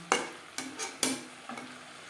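A spoon scrapes through boiled potatoes mixed with bean seeds and spices in a pan, four distinct stirring strokes about half a second apart over faint sizzling, close but soft, with no voices.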